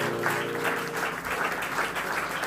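A church congregation applauds and cheers to welcome a new year, steady dense clapping throughout with a few voices mixed in, loud and close.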